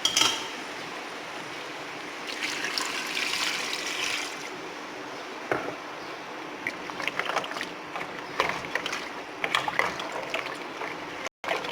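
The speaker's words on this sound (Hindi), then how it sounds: "अभी हम इसमें इसकी ग्रेवी डाल देते हैं।" Gravy pours into a pot of mutton paya with a steady wet, sloshing trickle and small splashes, at moderate loudness and close by.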